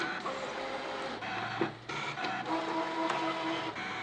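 A Brother ScanNCut DX SDX230Di electronic cutting machine runs fairly quietly nearby, a steady motorized whir with shifting whines and small clicks as the carriage moves, no voices.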